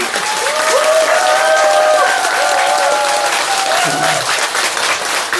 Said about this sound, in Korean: 손바닥 소리가 조금 들리네.